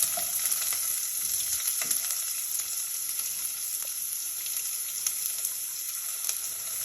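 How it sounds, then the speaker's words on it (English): Chopped onions sizzle steadily in a hot pan at the start of fried rice, a dense, even hiss with small crackles and faint clinks of stirring. "Now I usually put the onions in first because they usually take the longest to cook"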